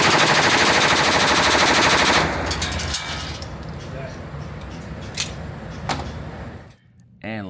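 Machine gun fire at a shooting range bursts loudly for about two seconds in a rapid continuous stream, then trails off into clatter, scattered sharp clicks and background voices.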